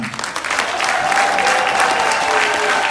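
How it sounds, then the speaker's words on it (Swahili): An audience applauding a minister at a conference gathering, dense sustained clapping from a large crowd that swells quickly and stays loud throughout. "naomba tupige makofi tafadhali tena"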